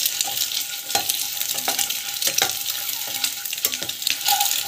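Ingredients for an egg gravy are dry roasted without salt in a pan, making a steady dry crackle broken by repeated scraping stirs at an irregular rhythm, close and moderately loud, with no one speaking.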